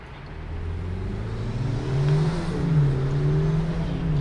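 An Alfa Romeo car engine with a throaty tuned exhaust revs and accelerates, its pitch rising and swelling in loudness before levelling off.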